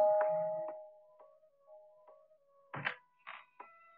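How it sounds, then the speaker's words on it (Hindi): A ringing bell tone sounds and decays, followed by a few softer chimes and knocks in a quiet room. "मगर तुमने ये घंटी कैसे बजाई?"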